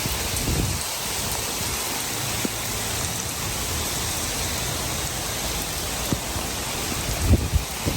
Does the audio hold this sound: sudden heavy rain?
yes